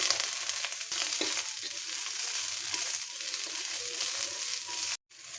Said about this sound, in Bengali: প্রথমে আমি তেল ছাড়া কাঁচামরিচগুলো টাইলা নেব।